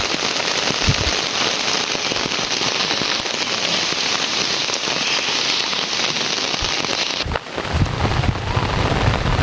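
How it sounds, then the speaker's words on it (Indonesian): Steady rain pours over village rice fields, a dense continuous hiss from start to finish, with a few louder drops and knocks near the end. "Dan lagi-lagi hujannya turun lagi teman-teman."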